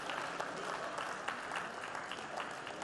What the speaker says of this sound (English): Please give your partner a round of applause for sharing